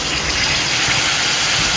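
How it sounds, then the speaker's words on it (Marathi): Hot water gushes steadily and loudly into a pan of jackfruit vegetable curry with its seeds, a short continuous pour with no voices. "गरम पाणी घालायचं जे बिया आपल्या उकडायला मदत करेल"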